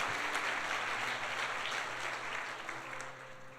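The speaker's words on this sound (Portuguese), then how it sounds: "dá um aplauso ao Senhor Jesus" A church congregation claps during a prophetic worship service, a sustained, fairly faint wash of applause from a crowd that swells and slowly tapers over several seconds.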